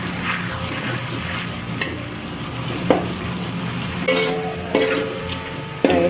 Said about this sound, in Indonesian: Kita goreng sampai dia matang, pokoknya sampai terlihat garing terus warnanya itu agak kecoklatan